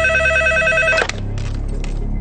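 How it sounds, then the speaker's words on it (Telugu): A landline telephone rings with a steady electronic trill after a house number is dialled, loud and alone for about a second before cutting off into a quieter, muffled line tone. "వాడి ఇంటి నెంబర్ కలిపి నేను మాట్లాడతాను"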